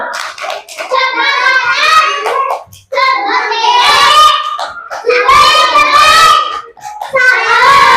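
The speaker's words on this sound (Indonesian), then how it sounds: "kita tepuk jempol dulu ya. Tepuk jempol" A classroom of children chants a thumb-clap routine in unison, sung voices carrying rhythmic hand claps in three loud phrases with short pauses between them.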